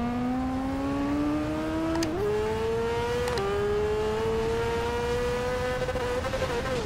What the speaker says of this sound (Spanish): Qué rico suena este carro.